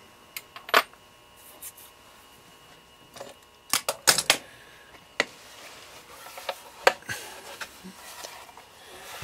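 A Hornady case trimmer trims a rifle brass case with scattered clicks and scraping ticks, loud sharp bursts at irregular intervals over a quiet background, with no talk.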